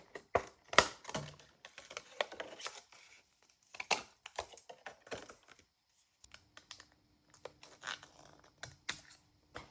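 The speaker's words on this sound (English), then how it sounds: "Let's cut this apart." Scissors cut apart paper and cardboard pizza restaurant packaging, close crisp snips and crinkles in uneven bursts with short pauses.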